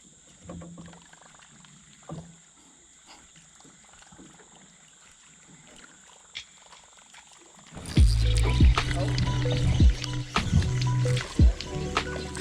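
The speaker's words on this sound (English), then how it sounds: "Well, back to bailing, I guess." Water sloshes and splashes as someone bails out a jon boat while kayak fishing; quiet for the first several seconds, then loud, close scooping, pouring and knocking sounds fill the second half.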